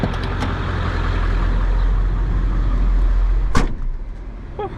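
A 1997 Ford F-350 XLT 4x4 pickup with a 7.3L Powerstroke diesel on a test drive, its steady, loud engine and road rumble filling the cabin, with a brief clunk near the end.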